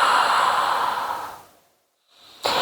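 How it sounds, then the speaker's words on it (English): Long, close exhale during a mat Pilates exercise, a breathy rush that fades into a short silence before the next intake of breath starts sharply at the end. "and exhale again"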